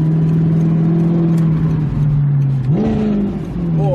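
An Audi R8 engine runs at a steady, loud, close drone, then revs up sharply and settles, with its pitch rising and falling.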